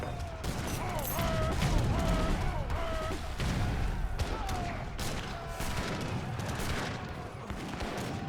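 Mortars and other artillery firing in the real-time strategy game Age of Empires III: Definitive Edition during a competitive match, with dense overlapping booms and bursts of gunfire under steady game sound and a caster talking over it.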